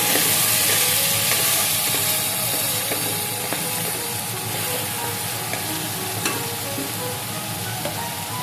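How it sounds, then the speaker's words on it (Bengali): Grated tomato fries loudly with reddish-browned onions in a pan for a paneer masala, giving a strong continuous sizzle. Repeated scraping stir strokes and occasional clicks of the spoon against the pan run through it, with no voices. "তারপর সুন্দর করে নাড়াচাড়া করে কষিয়ে নেব।"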